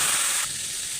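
Water poured into a hot pan with fish, a brief bright hiss of steam that drops off halfway and settles into a quieter sizzle.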